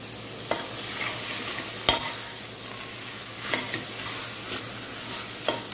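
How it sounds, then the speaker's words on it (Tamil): Cooked mutton being stirred into biryani masala in a pan gives a soft continuous sizzle, broken by several sharp scrapes and taps of a spoon against the metal. "அதை இதோட மிக்ஸ் பண்ணிட வேண்டியது"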